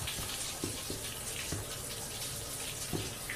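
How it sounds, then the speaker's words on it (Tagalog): A shower running: a steady spray of water hissing continuously, with faint irregular knocks and drips underneath. "Okay, shower is on."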